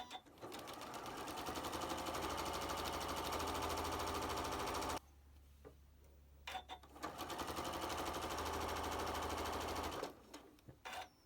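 Sewing machine stitching together three fabric seams for a quilted tree appliqué block, a steady loud whirring run of about five seconds, a brief pause, then a second continuous burst before stopping.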